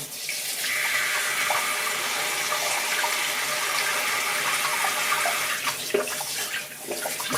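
Water runs steadily from a tap into a washbasin, a loud continuous splashing hiss, with a few small clatters near the end.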